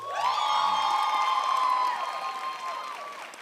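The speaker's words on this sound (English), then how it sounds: "Go on, give yourselves a round of applause." A graduation ceremony audience cheers and applauds loudly, with a high whoop ringing over it, then the noise slowly fades.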